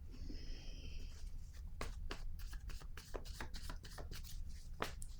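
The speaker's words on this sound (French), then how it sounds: "Il me reste deux cartes à piger." Playing cards being drawn and handled from a deck make soft, quick slaps and flicks, close and fairly quiet, in an irregular series over a low steady background hum.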